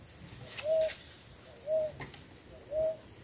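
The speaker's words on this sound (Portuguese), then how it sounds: "é o Bem-te-vi" A great kiskadee (bem-te-vi) calls in a home setting with three short, clear whistled notes evenly spaced about a second apart, moderately faint over a quiet background.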